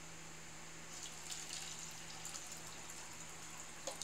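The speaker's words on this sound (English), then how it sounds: "let's pour some water." Water poured into a row of cups for a capillary-action experiment, a soft, steady splashing trickle that swells a little now and then, quiet and close with no voices.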